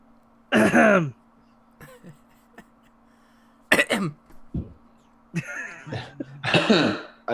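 Several bursts of coughing and throat clearing, loud and close, separated by short pauses, with a faint steady hum underneath.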